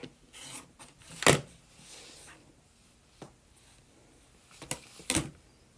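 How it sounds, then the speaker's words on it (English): Quilt blocks being trimmed, giving a few sharp cutting rasps and soft rubbing scrapes at irregular intervals, close and fairly quiet, with no talk. "Okay, so I'm just trimming these up here."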